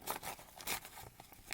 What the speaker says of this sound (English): So you need to pull away all your stabilizer.